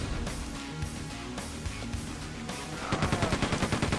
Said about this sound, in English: maybe I should shoot this out